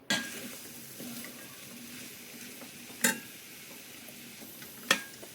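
Mixed Maharashtrian undhiyu vegetables are stirred in a pan over low gas, giving a soft scraping and gentle sizzle. Two sharp clinks of a spoon against the pan stand out, with no talking.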